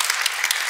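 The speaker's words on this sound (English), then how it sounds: "Let's give him a round of applause." Audience applause after a lecture on engaging the Muslim world, a short dense burst of many hands clapping together, fairly loud and close, with no voices over it.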